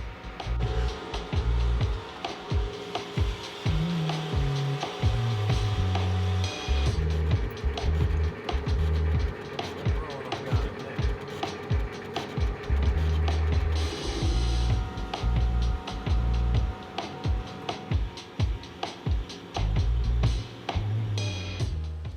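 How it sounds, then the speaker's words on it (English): A lathe parts off the weld on a catalytic converter, cutting with a rhythmic metallic grinding and ratcheting chatter that pulses steadily and loudly throughout, with brief shifts in tone as the tool bites. "He's currently parting off the weld that'll allow the converter to split in half."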